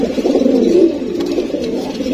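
An old-breed Jabra blue-eyed pigeon coos in a low, steady, continuous murmur close by, with no talk over it.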